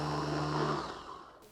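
A blender whirs loudly as it grinds cold rice with broth. The motor drone holds steady, then winds down and fades out at the end.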